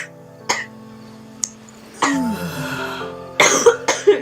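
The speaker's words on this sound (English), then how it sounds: "Freaking cough is not gonna stop!" A person with a persistent cough coughs repeatedly at close range, with several sharp separate coughs, then a longer rough bout and a rapid cluster of hacking coughs at the end.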